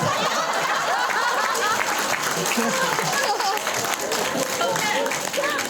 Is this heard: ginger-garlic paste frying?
no